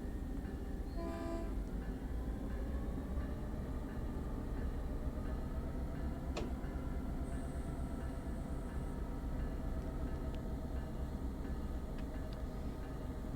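Steady rumbling of a long Caltrain train in Train Sim World on the Peninsula Corridor, with continuous rolling noise, a brief horn-like tone near the start, and occasional clanks and ticks.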